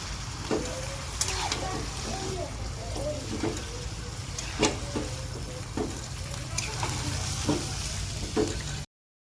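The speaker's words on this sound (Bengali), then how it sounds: "আমার এখন মাটনটা বসিয়ে দিব মাটন কড়াইয়ে উঠে গেল" Mutton sizzling and frying in a kadai, a steady hiss of oil with scattered crackles and occasional clinks of stirring, close up and continuous, with faint talk in the background.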